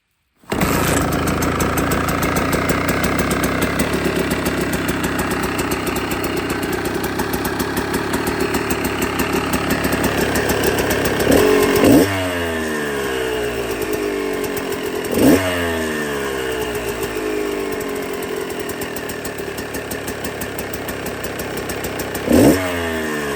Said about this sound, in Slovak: motorka krásne štartuje